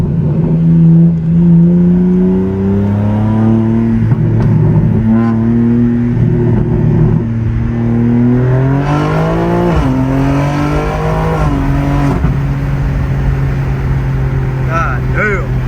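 A BMW G82 M4 with an aftermarket downpipe and SST valve controller accelerates hard through the gears, its engine note rising, dropping at a shift and climbing again, loud and close inside the car, with a person speaking briefly.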